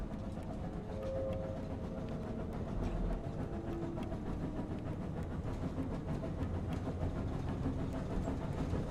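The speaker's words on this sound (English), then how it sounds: "Here comes a phantom train." An invisible phantom train in the video game Pathologic 2 rumbles past at night as a low, steady rolling drone with faint rhythmic clatter, continuous and moderately loud throughout with no voices.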